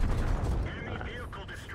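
Tank cannon fire in World of Tanks: a booming blast opens, then its rumble and echo die away over a second or so, with game sounds rattling under a faint background voice.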